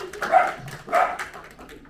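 Two sharp barks from a dog somewhere in a comedy festival audience, fairly near and moderately loud, with a brief soft whine between them and quiet room murmur behind.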